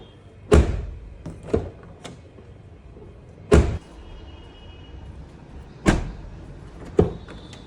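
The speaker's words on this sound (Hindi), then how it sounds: "डोर क्लोज करके भी चेक कर लिया है" A car door fitted with shock-absorber cushions is shut five times at irregular intervals. Each close gives a sharp, near thunk over a quiet background.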